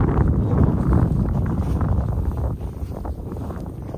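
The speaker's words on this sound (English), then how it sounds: "the wind has suddenly picked up" Strong wind buffets the microphone on an Idaho mountain peak, a steady, heavy roar of gusts that eases slightly midway and then keeps blowing, with no voices.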